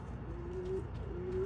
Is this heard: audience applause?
no